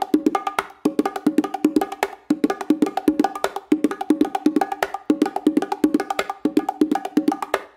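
Bongos run through a fast, continuous exercise of sharp slaps, open tones and soft ghost notes, close and dry with a steady, busy rhythm and no talking.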